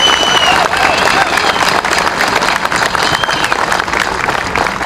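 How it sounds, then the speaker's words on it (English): Rally crowd applause outdoors at a state capitol gun-rights event: a loud, continuous roar of many hands clapping with scattered cheers, holding steady for the whole stretch. "So if you could, give him a warm round of applause"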